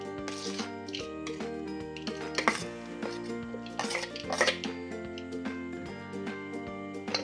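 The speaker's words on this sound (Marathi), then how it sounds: "डाळ टाकते कुकरमध्ये." Washed lentils go into a pressure cooker with close metallic clinks, scrapes and rattles of a steel pot and utensil, repeated at an uneven pace over a steady tonal background.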